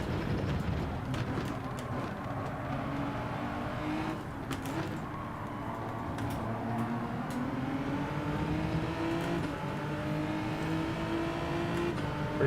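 Race cars accelerate through a Gran Turismo 7 online daily race, several engines droning and rising in pitch together in a continuous layered roar, with occasional brief clicks over the top.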